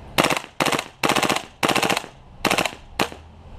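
Full-auto bursts from an airsoft M4 rifle fitted with a WE steel hop-up unit: six rapid mechanical volleys in quick succession, each a dense rattling string of shots with brief gaps between, loud and close, no talk.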